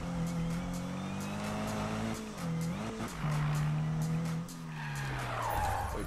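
A car in the Need for Speed video game slides after a tap of the e-brake, with loud, sustained tire squeal rising and falling over a continuous engine drone.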